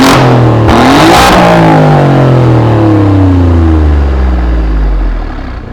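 An Alfa Romeo Giulia Quadrifoglio engine revs hard, a loud close roar that climbs and then winds down over several seconds, running alone without voices.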